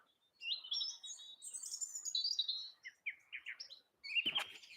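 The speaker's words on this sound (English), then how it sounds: "There's some bird song from Cornwall." Morning birdsong at dawn on a Cornish hillside: several bright chirping and warbling phrases close by, separated by short pauses, ending with a louder burst of calls.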